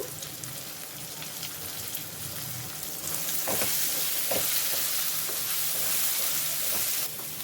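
Eggplant frying in a pan with chili powder and turmeric for a masala curry, a steady dense sizzle with a few stirring scrapes, growing louder partway through, close and without talk.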